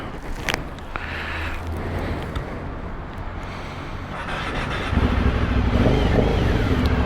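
A 2021 Aprilia Dorsoduro motorcycle is ridden with its engine droning steadily under wind rush. The engine note rises and grows louder partway through as it pulls harder, and there is no talk.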